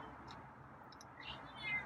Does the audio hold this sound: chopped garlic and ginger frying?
no